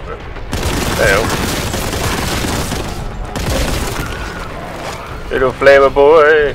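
Grav-Cannon fire in the shooter game Boltgun: loud, dense bursts of booming shots and blasts run almost continuously, with a voice talking over the din.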